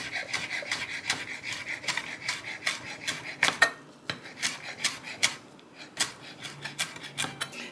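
Knife chopping fresh basil leaves on a cutting board for shrimp scampi, a steady run of crisp, close taps with a brief pause near the middle before the rhythmic chopping resumes.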